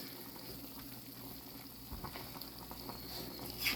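Rice and chicken with vegetables simmering in a single pot, a faint steady bubbling and soft patter of boiling water, close by with no talk.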